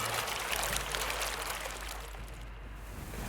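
Steady splashing and trickling of a fountain's water in an Unreal Engine game scene, a continuous broadband wash that runs evenly throughout with no voices.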